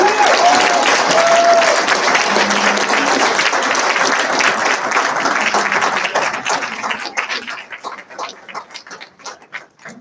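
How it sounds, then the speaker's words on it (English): A commissioning-ceremony audience for a class of 2021 breaks into dense, sustained applause that fills the room, thinning into scattered individual claps toward the end. "So give her a warm round of applause."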